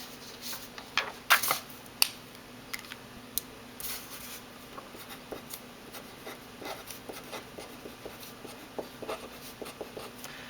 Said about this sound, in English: So let's see how it writes.